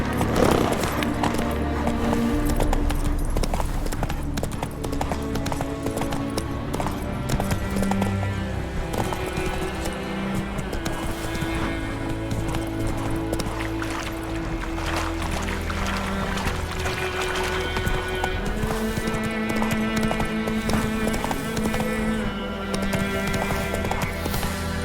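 Horse hooves clip-clop at a gallop in The Witcher 3: Wild Hunt, a steady rhythmic beat running the whole time beneath loud, dense game music.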